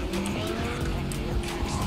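A car drives in the video game Cyberpunk 2077, a continuous rumbling engine and road roar with hints of tire squeal, loud and close throughout.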